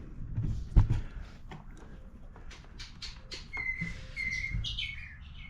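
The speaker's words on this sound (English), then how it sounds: "Those are them crazy birds out there." Wild birds chirping outdoors in springtime near a workshop, scattered high tweets and short calls at a moderate distance, mixed with faint handling knocks and background noise.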